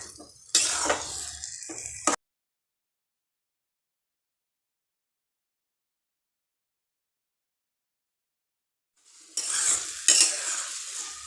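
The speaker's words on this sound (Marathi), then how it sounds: "एक दोन तीन मिनटं ते छान मिक्स करून घ्यायचं" Roasted brinjal bharit with dried fish being stirred in a pan, brief bursts of spoon scraping and sizzling at the start and end separated by a long silent gap, close and fairly loud.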